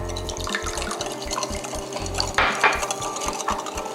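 A spoon stirs a sauce of brown sugar, ginger and soy sauce for chilled Japanese tofu, tapping and scraping against a bowl in quick repeated strokes, close and clear, with no speech.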